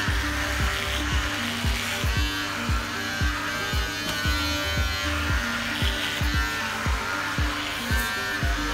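Electric clippers buzzing steadily while shaving a pitbull dog, a continuous close hum with faint rhythmic ticks throughout, no pauses.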